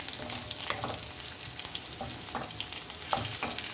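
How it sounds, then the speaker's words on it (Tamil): Garlic frying in hot oil, a dense continuous sizzle with scattered soft stirring scrapes, fairly quiet and without talk. "நம்ம அந்த எண்ணெயிலே நல்லா ஃப்ரை பண்ணிக்கலாம்"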